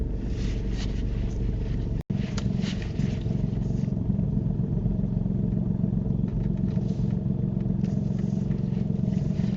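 Learner's car driving forward into a parking bay during a UK mock driving test: low steady engine rumble and cabin road noise close up, with a sharp click near the start and faint clatter, no voices.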